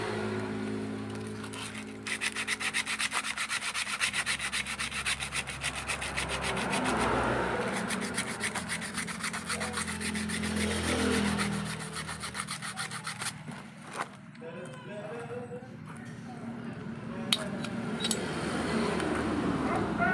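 Sandpaper rasps against a stuck boat propeller shaft bushing, the bushing seized to the shaft, in steady close rubbing strokes that run almost without pause.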